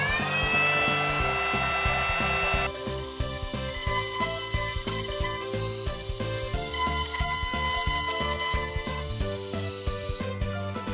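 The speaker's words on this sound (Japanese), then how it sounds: "では溝を掘るんですけど、使うのはこれ、ルーターですね。" A router cuts a narrow groove into wood that blocks wall wiring for a new outlet, a steady loud tonal machine whine with a pitch shift partway, running continuously near and alone.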